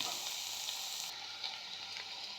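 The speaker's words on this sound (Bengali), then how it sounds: "এবার আমি পেঁয়াজটা ভেজে নেব।" Onions fry in mustard oil in a pan with a soft, continuous sizzle and faint crackle, heard quietly and without a break.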